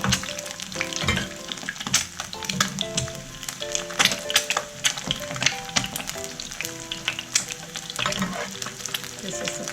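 Chicken tocino frying in hot oil sizzles and spatters close up, with sharp crackling pops scattered over a steady sizzle and some stirring clatter.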